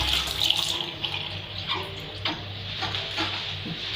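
A newly installed tap in a bathroom runs steadily into a basin, a continuous splashing hiss of water with faint clicks, no voices.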